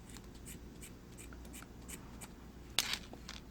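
A single sharp snip of scissors cutting through T-shirt yarn at the end of a macrame square-knot necklace, heard briefly and close over a quiet background.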